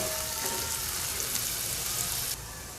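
Chopped onion and garlic fry in hot oil, a dense, loud, steady sizzle heard up close that drops abruptly to a quieter hiss near the end.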